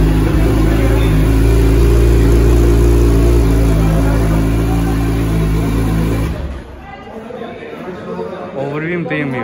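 A Suzuki Hayabusa motorcycle engine roars loudly and steadily with revving, and voices chatter alongside it before the engine sound cuts away sharply after about six seconds.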